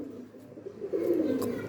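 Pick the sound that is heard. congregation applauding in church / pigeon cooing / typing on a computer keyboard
pigeon cooing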